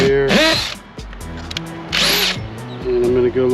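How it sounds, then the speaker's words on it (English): A power drill whines in two short, loud bursts, drilling holes in the corners while installing a hydraulic jack plate on a boat, with a deep hum and a few faint voices in the gaps between runs. "What we're going to do is drill out holes in the corners."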